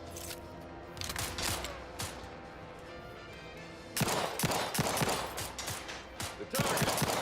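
Gunfire in The Outer Worlds 2 comes as sharp shots and quick bursts, sparse at first and then denser and louder in rapid volleys toward the end.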